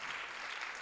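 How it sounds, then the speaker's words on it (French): Audience at a round-table discussion applauds in a faint, distant, continuous wash of clapping for a brief moment. "c'est pour ça qu'on peut l'applaudir"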